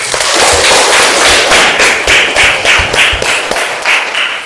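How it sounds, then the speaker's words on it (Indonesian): Applause from a classroom audience of student teachers, dense and continuous with sharp individual claps rising and falling over several seconds, fairly loud and without talk. "tepuk tangan"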